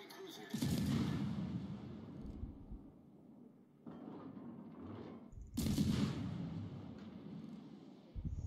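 Naval guns from warships in World of Warships boom in heavy salvos, three deep thunderous blasts with rumbling decay and quieter stretches between, followed by a short final hit.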